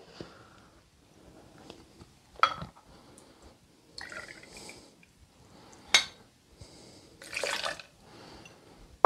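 Vodka, about four centilitres, poured over ice into a cocktail shaker for a Cosmopolitan. A brief liquid splash and trickle come between scattered clinks of ice and metal, close and fairly quiet.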